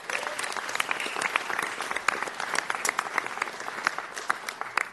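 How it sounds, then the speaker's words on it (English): Applause at a city council meeting honoring a ninth-grade student, a steady crackling patter of many hands clapping at once, somewhat distant and sustained for several seconds with little talk beneath it. "How about a big round of applause for ninth grader Lester Solis?"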